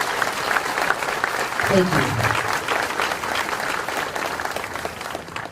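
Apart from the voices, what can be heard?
audience applause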